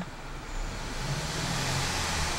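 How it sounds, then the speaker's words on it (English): A 2012 Buick Regal Premium engine idles with a steady low hum and faint rumble, constant and unchanging, with no voices. "you can see that the car is running and idling perfectly"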